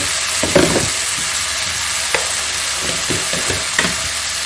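Red chili powder and chili flakes being stirred into a hot pan for a no-oven chicken pizza, a constant loud sizzle with scattered scraping and tapping of the spoon against the pan.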